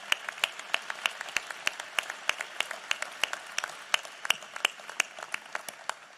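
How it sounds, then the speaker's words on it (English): An audience at the Smithsonian's Udvar-Hazy Center applauds during a National Space Council meeting. The clapping is steady, moderately quiet and slightly distant, and it holds a regular rhythm throughout. "I think they all deserve a big round of applause."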